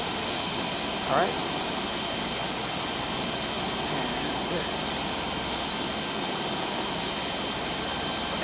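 An Epic E1000 turboprop engine in the X-Plane 12 flight simulator drones as a steady, even cockpit whine and rush throughout, with a brief spoken word over it.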